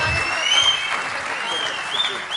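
Audience applause for the poet Deepak at a Hindi comedy poetry gathering, a steady dense wash of clapping across the whole stretch, loud and close with no pause.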